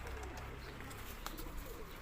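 Teddy pigeons, including foreign birds in a loft, make faint low cooing beneath a steady background hum, quiet and somewhat distant over a couple of seconds.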